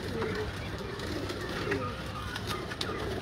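Pigeons coo in repeated soft, throaty calls close by, set against a steady background hum and faint voices.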